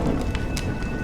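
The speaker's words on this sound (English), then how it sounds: "When will this rain ever stop?" Steady rain in the game Honkai: Star Rail, a loud, dense wash of falling water with a few sharper drop taps.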